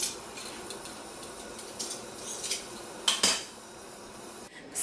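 Plates and cutlery clinking while kale pasta is served, several light metallic taps and scrapes, one sharper clatter in the middle, close by over quiet room background, no talking.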